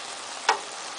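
A salmon stir-fry cooks in a pan, giving a steady, close sizzling hiss throughout, broken by one brief, sharp pop about halfway through. No voices are heard.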